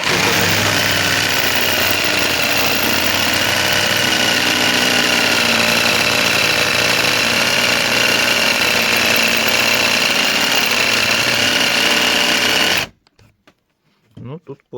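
A LEADER Lite BD20-65M cordless jigsaw labours through thick wood, around 40 mm, with a loud, steady motor whine and rattling blade for about thirteen seconds before cutting off abruptly, leaving a few faint knocks.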